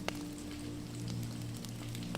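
Steady rainfall patters across the surface of a pond, a dense, even wash of drops over a low droning hum, with a few crisper splashes near the start and no voices.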